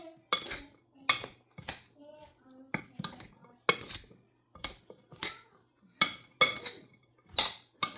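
A spoon or utensils knocking against a bowl while salad is tossed, producing a steady series of sharp clinks and scrapes at close range, with a voice talking quietly between strikes.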